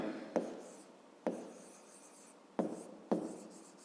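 A math solution is written out by hand, four separate sharp scratchy strokes with quiet pauses between them, close and faint.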